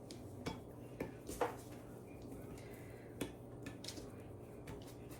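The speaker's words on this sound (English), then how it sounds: "Just going to throw them in the casserole dish that we're going to be baking it in" Soft dessert pieces drop into a casserole dish in a few scattered light clinks and taps, quiet and close, with faint handling sounds between, no talking.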